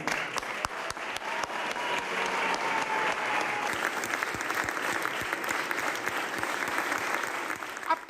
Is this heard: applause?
yes